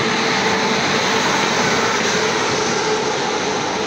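Indian Railways Shramjeevi Superfast Express pulling out of New Delhi station, a steady loud broadband rumble of the moving train with continuous rolling noise and no voices.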